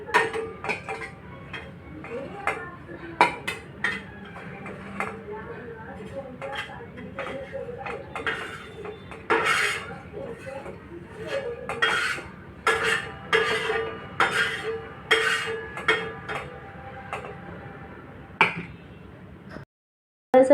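Fried chillies being moved onto a plate, with scattered clinks and taps of a utensil against dishes, irregular and close, a quiet kitchen hum beneath.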